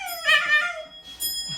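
A dog whimpers in a high, drawn-out whine, then gives short yips and a small bark, close by and alone.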